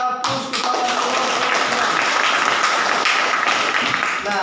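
Classroom applause for a student discussion group after their presentation, a dense, steady burst of many hands clapping that fills the room for about four seconds and then fades.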